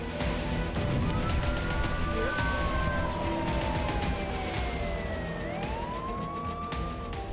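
Rocket-alert sirens wail across Ashkelon, Israel, after a Hezbollah rocket attack, several rising and falling tones overlapping continuously and loudly over a dense, noisy city background, with no talking.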